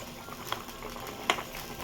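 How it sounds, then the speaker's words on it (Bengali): Fish curry gravy with fried vetki and potato simmering in a covered pot, a soft steady bubbling hiss with two sharper pops, close and fairly quiet. "ঝোলটা আমার ফুটে একদম টুকু হয়ে গেছে, আর একটু জলটা কমবে।"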